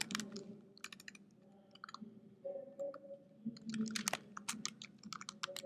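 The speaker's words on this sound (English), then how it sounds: "I'll type it for you guys to see" Clicky computer keys typed in irregular bursts with short pauses, close and moderately loud, over a low room hum while a lecturer writes out accounting notes.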